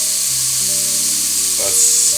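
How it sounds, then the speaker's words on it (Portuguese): A pan of homemade tomato sauce sizzles and fries loudly and steadily on the stove, with a brief stirring clatter near the end and no voices. "quando a panela começa a fazer esse barulho"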